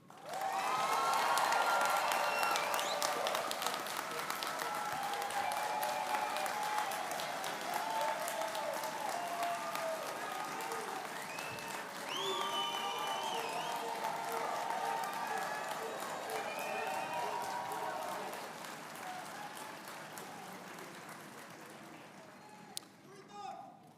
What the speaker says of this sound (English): now is the time to applaud your graduate